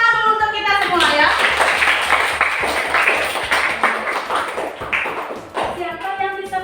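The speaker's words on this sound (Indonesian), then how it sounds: "Tepuk tangan dulu untuk kita semua ya" Classroom applause from students after group presentations, a loud rattling burst of clapping that fills the middle of the clip, bracketed by voices at the start and end.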